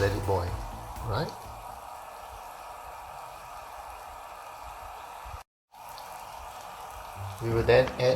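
Steady soft bubbling and hiss of water boiling in a pot with rice vermicelli noodles, with brief clinks of utensils at the start and end.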